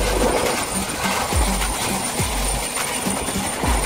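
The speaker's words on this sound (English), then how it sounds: "Helicopter." A helicopter's rotor makes a continuous whirring drone with rhythmic low thumps, heard fairly close and loud.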